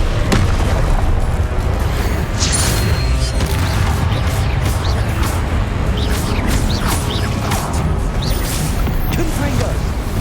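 Confringo blast-spell explosions in the Hogwarts Legacy video game, repeated booming bursts and crackles over a loud continuous battle din.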